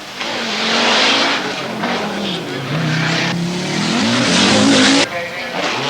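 A Toyota Celica Turbo rally car races along a stage, its engine rising and falling through gear changes with tyre noise, loud and fairly close, while a commentator talks over it.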